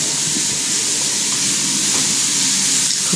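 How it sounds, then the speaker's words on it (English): Steak sizzles in a pan as a steady, loud, broadband hiss that carries on evenly with no talking over it. "Cooking up some steak."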